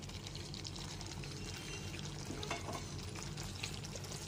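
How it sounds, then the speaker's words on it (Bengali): Fried potato and pointed gourd pieces tipped into a pan of spiced sour yogurt gravy on medium flame, giving a steady close sizzle with soft pouring and stirring noises throughout. "এরপর এর মধ্যে ভেজে রাখা আলু পটলের টুকরোগুলো দিয়ে দিলাম।"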